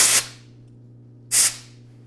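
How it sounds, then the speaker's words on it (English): Two short, loud bursts of compressed air hissing as they blow off a motorcycle oil drain bolt during a Honda CRF100 oil change, separated by about a second of quiet hum. "blow it off a little with some compressed air"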